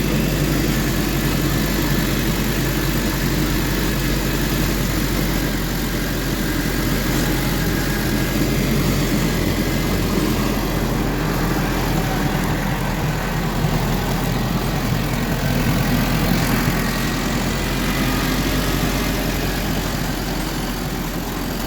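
A 1920 Allis Chalmers 6-12 tractor engine runs steadily as the old machine is driven around a barn, a continuous loud mechanical drone with a low chugging throb throughout, no voices.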